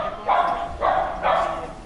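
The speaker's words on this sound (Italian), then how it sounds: "Il cane del merda che abbaia al mazzo." A dog barks three times in a steady rhythm, each bark loud, close and rough-edged, with brief pauses between them.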